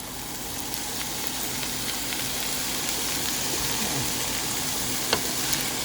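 Bacon fried rice stir-fried in a hot pan makes a steady, even sizzle throughout, with a faint clink near the end.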